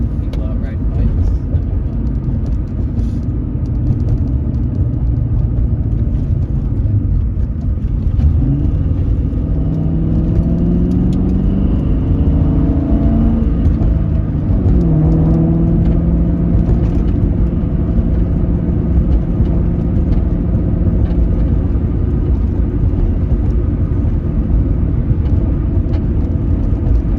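A Ford Mustang Mach 1 drives along with a continuous loud engine rumble and road noise that shifts in pitch as it accelerates, heard from inside the car while people talk over it.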